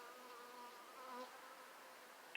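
A steady buzz from a non-honeybee bee hums continuously at low volume, with a slight swell midway, like a bee hovering close by.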